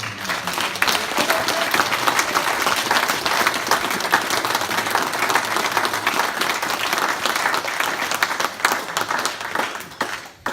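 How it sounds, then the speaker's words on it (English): An audience gives a long, loud round of applause, dense clapping sustained throughout with a slight fade at the very end. "I think you should all give him a huge round of applause"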